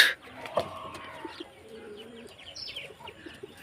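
Pigeons in a breeding loft, where the birds have begun laying eggs, give soft, close coos that rise and fall, with a few faint chirps and rustles between them.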